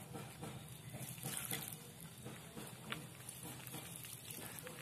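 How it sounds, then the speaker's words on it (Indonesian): Water trickles and splashes steadily onto soil around strawberry plants, a soft continuous pouring with small patters, close by and fairly quiet, with no talking. "Penyiramannya juga harus hati-hati ya guys ya, jadi pelan-pelan saja, yang penting airnya nyampe ke tanah."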